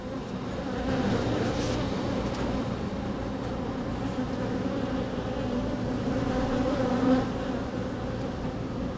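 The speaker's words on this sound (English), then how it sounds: "There's a loud bee in my ear." A honeybee buzzes loudly right beside the ear, a steady continuous drone that hovers close for the whole stretch with slight swells in intensity.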